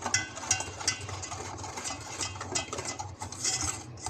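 Milk powder and gram flour are stirred together in a bowl, producing soft scraping and light clinking of a utensil against the bowl, with a faint low hum underneath.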